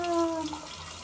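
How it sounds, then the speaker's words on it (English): Shower water streams steadily over a pet parrot, a close, continuous running-water hiss with a brief tonal squeak at the start and no talk. "Didn't you want to come take a shower?"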